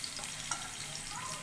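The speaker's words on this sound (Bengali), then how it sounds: "তেলটা গরম হয়ে গেছে, আমি রসুন কুচিগুলো দিয়ে দিলাম।" Chopped garlic dropped into hot oil, a dense close frying hiss that stays steady through the short moment, with no talking.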